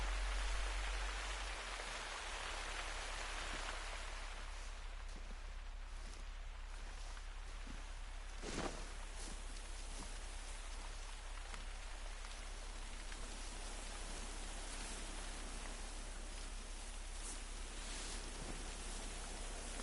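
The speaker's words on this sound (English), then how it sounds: "Dang, that rain is loud." Steady, dense video game rainfall hisses continuously, loud and close, with an occasional brief sharper patter standing out from the wash.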